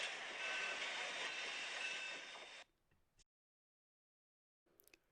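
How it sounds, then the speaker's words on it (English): A train slowing down and stopping at a station: a loud, dense rolling rush for a few seconds that cuts off abruptly, leaving near silence broken by a few faint, brief knocks and clicks. "Train slowed down and stopped at a station"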